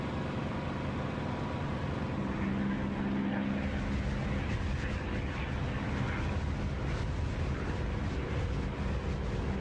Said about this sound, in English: it's a lovely sound when you open the canopy